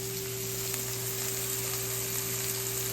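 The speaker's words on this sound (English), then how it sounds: "check out these sweet potato fries. Looking pretty good. Still got a bit more time." Sweet potato fries frying in a pan, a constant bright sizzle heard up close and unbroken throughout, alongside a steady tonal hum and no speech.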